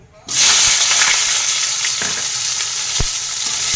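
Pangas fish pieces drop into hot oil with a sudden loud sizzle that settles into a steady, close crackling fry, with a few faint utensil knocks and no talk.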